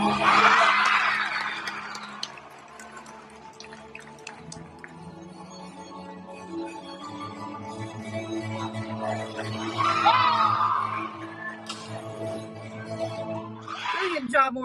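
A crowd at a Winter Guard International color guard show screams and whoops over loud show music, with the strongest bursts at the start, in the middle and again at the very end.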